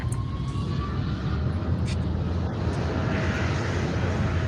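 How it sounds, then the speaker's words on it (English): An airplane taking off gives a steady, loud, broadband engine roar that holds evenly throughout, with a faint high whine riding above it. "It's an airplane taking off."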